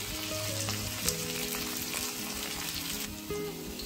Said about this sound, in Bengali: শুধুমাত্র লবণ দিয়ে আলুগুলোকে ভেজে রাখছি।